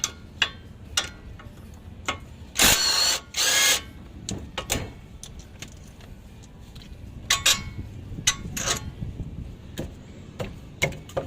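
A power tool removing the bolts of a front shock absorber, with two loud sustained whirring bursts close by, surrounded by scattered clicks, taps and clanks of tool work.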